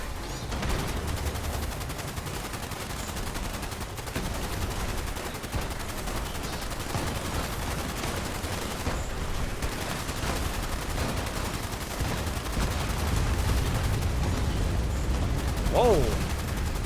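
A group of players pours steady gunfire into a raid boss in Fallout 76, a dense, continuous clatter of overlapping shots that runs the whole time, with a voice talking faintly over it.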